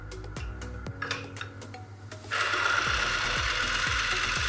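A Timken load tester running rough: mechanical clattering with irregular knocks, then a loud continuous grinding whir kicks in and runs steadily, harsh and close.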